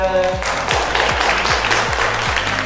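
Applause follows a Timeless Dance performance at a dinner event: a dense, steady clapping of a crowd filling the room, close and loud throughout, with no one speaking.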